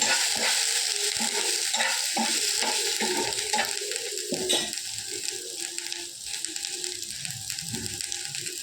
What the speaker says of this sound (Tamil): நல்லா எண்ணெயில் வதக்கி விட்டுட்டு